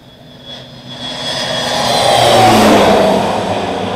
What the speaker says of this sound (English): We got a spray plane today.